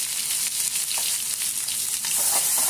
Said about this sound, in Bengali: তেলের মধ্যে দিয়ে দিচ্ছি দালচিনি, জিরা, এলাচ আর লবঙ্গর ফোড়ন